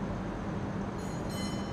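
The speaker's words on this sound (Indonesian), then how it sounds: "Akan ada kereta yang melintas ya, itu merupakan kereta Bandara YIA" The YIA airport train rumbles past at a station in Indonesia, a steady broadband roar of wheels on rails throughout the short moment, close and continuous.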